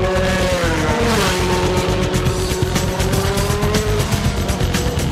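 A 1979 Renault Formula 1 car driving with no traction control, its engine loud and close throughout, revs rising and falling in rapid harsh pulses over a continuous roar, with a brief tire squeal as the car slides.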